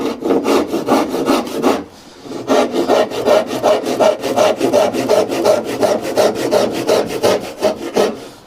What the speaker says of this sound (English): obviously this is a pull saw